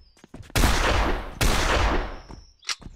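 Two loud, close shotgun blasts in the zombie shooter Zompiercer, each a sharp boom followed by a rumbling decay, spaced nearly a second apart with small clicks and bits of game noise between them.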